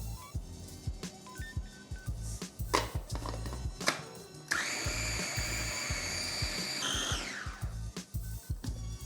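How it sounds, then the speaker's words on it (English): A food processor grinds fish seasoning ingredients with salt and olive oil into a thick paste, starting with choppy pulsing thumps and then whirring into a loud, steady high whine for several seconds before spinning down, close by with no talking. "So I like to grind the ingredients until it's a nice thick paste"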